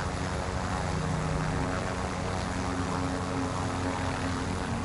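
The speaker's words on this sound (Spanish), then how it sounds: "¿Este helicóptero vamos para el banco para allá arriba?" Helicopter in a video game, a steady broadband rotor and engine drone that holds constant and loud throughout with no voices.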